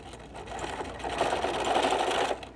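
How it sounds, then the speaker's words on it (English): A sewing machine runs steadily for a couple of seconds, back stitching along the seam of a fabric microwave potato bag, with a close, even mechanical whir that starts and stops cleanly. "I'm going to back stitch a couple times"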